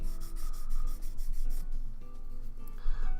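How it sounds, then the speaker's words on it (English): A file rubs steadily over a plastic Gunpla model part, making continuous close scraping strokes with a slight rhythmic rise and fall and no voices. "it's better just sanding over these with a file."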